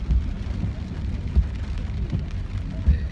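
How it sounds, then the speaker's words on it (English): Steady rain falling outside a car, a constant close hiss and patter with a few heavier thumps, continuing alone without talk. "you realize that it's raining outside."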